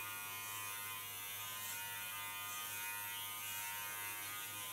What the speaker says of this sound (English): put my blade to the back, and use my clipper as a comb